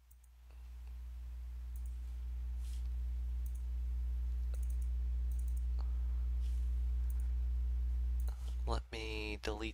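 Computer mouse clicking during object-oriented programming work: a handful of faint, sparse clicks spaced irregularly over a loud steady low hum, followed by a voice starting to speak right at the end.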